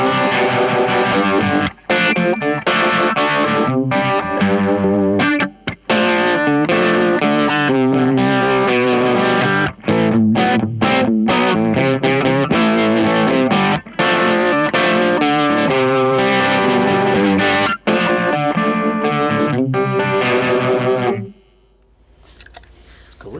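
Electric guitar driven through a Crazy Tube Circuits Killer V vibrato and overdrive pedal, a thick distorted, wavering tone playing continuously and loud for over twenty seconds before cutting off into near silence.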